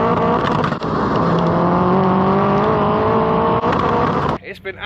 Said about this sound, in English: we just made 565 brake on the dyno